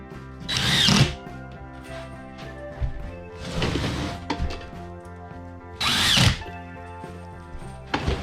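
Power drill driving screws through drywall into wall studs in a home renovation, with three strong whirring bursts and quieter drilling and thunks between them.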